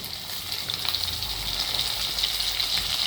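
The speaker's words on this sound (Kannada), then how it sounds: "ಈಗ ಒಂದೊಂದೇ ಬದನೆಕಾಯಿ ಹಾಕ್ಬಿಡೋಣ ಇದಕ್ಕೆ." Brinjal pieces sizzling in hot oil with lightly fried onions and curry leaves, a steady, fairly loud hiss that holds evenly throughout without talk.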